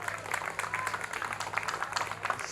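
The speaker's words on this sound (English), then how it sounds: "Give him a round of applause," A brief round of applause from an audience at a live talk during a festival in Auroville, with scattered clapping heard moderately near and fairly quiet.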